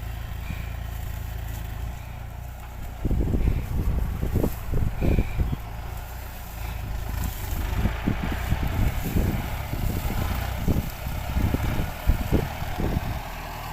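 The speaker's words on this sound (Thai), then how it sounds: "เป็นการปลูกโดย ใช้รถไถนะครับ เป็น M9540 รถไถขนาดใหญ่นะครับ" A large M9540 tractor plants sugarcane in a field, its engine a steady close rumble with low-end bursts and throttle surges throughout, with wind noise over the top and no speech.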